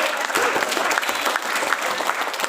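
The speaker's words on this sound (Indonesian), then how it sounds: "Tepuk tangan dulu buat kalian dong" Audience in a Christian teachers' gathering breaks into sustained applause, a dense, even crackle of many hands clapping at moderate distance, with faint crowd murmur beneath.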